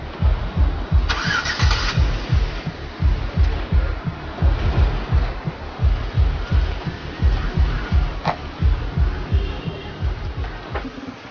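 A car engine cranks over with a rapid, rhythmic churning of the starter, loud and close, then catches and settles into a rough idle with some scattered clunks.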